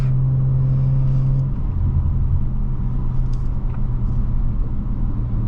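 A 2018 Audi RS5 Coupe on the road, its exhaust giving low rumbling output with scattered pops and crackles from the rear as a steady tone drops away early and engine drone continues underneath.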